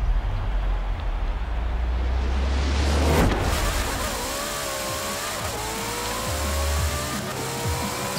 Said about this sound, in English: Listen to the car's sound.